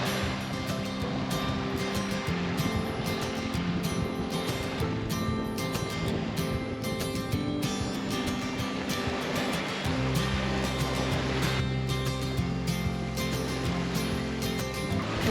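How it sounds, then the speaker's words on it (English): A sailboat moving through ocean waves on a crossing from Grenada to Martinique, with a continuous rushing wash of water against the hull and a low engine-like hum joining partway through, close and steady with no talking. "We are sailing."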